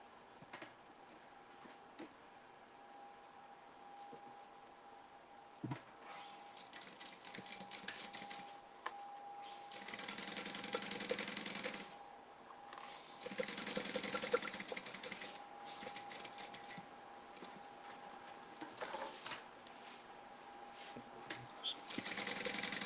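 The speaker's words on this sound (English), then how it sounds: "we're sewing the fabric towards the center" A sewing machine runs in short, quiet bursts while stitching tote bag fabric, its faint steady whir stopping and starting between pauses.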